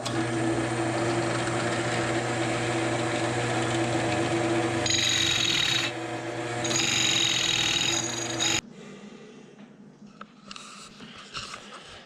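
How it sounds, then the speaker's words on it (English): Drill press whirring steadily while boring holes in wood for cocktail smokers, a sustained motor hum with shifting cutting tones, then spinning down to a quieter rattle near the end; no talking. "I'm going to get this set up and then we'll start drilling these holes"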